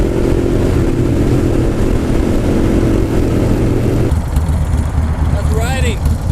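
A Suzuki Boulevard M109R muscle cruiser motorcycle drones steadily while riding, a loud continuous low engine rumble mixed with wind noise, with a brief higher whine near the end.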